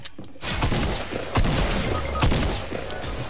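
Sniper rifle fire in Fortnite, with several loud, sharp shots ringing out about a second apart over a dense, noisy backdrop of game action.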